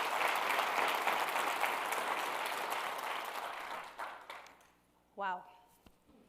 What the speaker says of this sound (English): let's do that roaring round of applause now